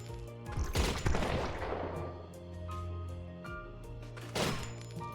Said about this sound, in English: We are just shooting ghosts with shotguns.